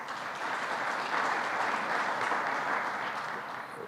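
Steady, dense applause from an audience at a diplomatic gathering in Kenya, sustained evenly for several seconds with no talking over it.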